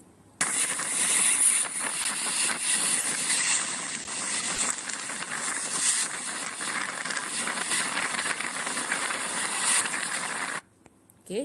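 Steady train ride rumble with mechanical rattling and hiss, continuous and fairly loud for about ten seconds before cutting off, no voices.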